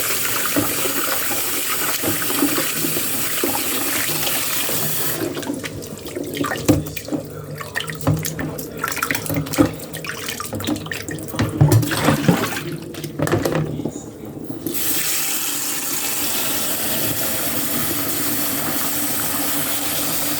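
Kitchen tap water running steadily while crocodile meat is washed in the sink, a continuous hiss interrupted midway by splashing and handling noises as the meat is rinsed, close and fairly loud, with no talking.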